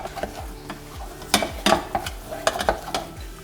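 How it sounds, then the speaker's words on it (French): Choux pastry dough being stirred and dried in a pan over high heat, with scattered scraping knocks of a utensil against the pot over a faint steady hiss, fairly quiet and close, no talking. "on va venir dessécher notre pâte à feu vif"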